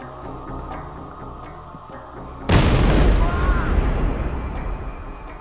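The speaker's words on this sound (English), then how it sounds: "The explosion seriously wounded him and tore off his fingers." A bomb explosion in a university computer science department's coffee room, a sudden loud blast cutting in mid-clip and rumbling as it decays, following a quieter stretch of ambience with background music.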